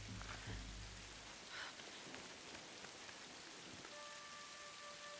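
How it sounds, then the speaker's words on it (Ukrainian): Steady rain hiss in Tomb Raider (2013), a dense continuous downpour with scattered drops on surfaces, a low rumble fading early and a faint tonal hum near the end, no voices. "Я посеред доща!"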